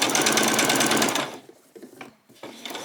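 A sewing machine runs at its longest stitch length for a gathering row a quarter inch in on a skirt, giving a loud, close, steady rapid whir for just over a second before it stops, followed by faint handling noises.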